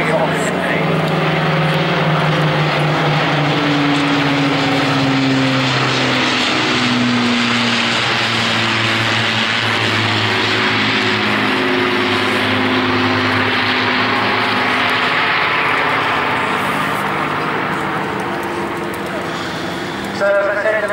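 An Avro Lancaster propeller bomber of the Battle of Britain Memorial Flight flying over the Sunderland airshow, its piston engines giving a loud sustained droning hum with shifting pitch as it passes, with a voice talking over it.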